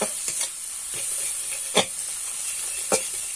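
Ground cumin and coriander cook in a pan with a splash of water for Kashmiri aloo dum, a continuous soft hiss and sizzle broken by three or four sharp utensil scrapes as it is stirred.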